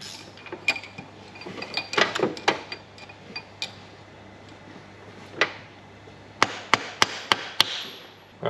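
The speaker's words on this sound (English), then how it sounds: "just get a, a mallet and something to just give them a tap" Sharp mallet taps on valve spring retainers of a Ford Falcon XR6 Turbo Barra engine, worked in the car: scattered knocks early on, then a quick run of five or six crisp close strikes near the end.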